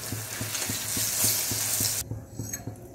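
Bora fritters frying in oil in a kadai, a steady hiss of sizzling with regular scraping strokes of a spatula, loud and close, the sizzle dropping sharply near the end while the stirring continues.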